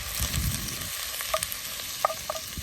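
Bacon frying in olive oil in a pot for Guinness lamb stew, a steady sizzle with several sharp scraping knocks as the pieces are pushed apart, no talk.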